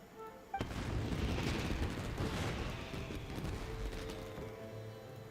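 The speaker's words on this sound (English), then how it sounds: "Yoimiya, this is turning into a bit of a fireworks display." Fireworks bursting in the video game Genshin Impact: after a short quiet lead-in, a loud sudden boom sets off a dense rolling crackle of blasts and pops that keeps going and slowly eases off.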